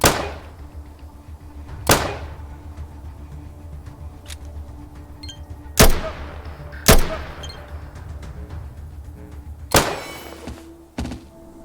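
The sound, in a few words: pistol gunshots while weapon testing in the video game ATOM RPG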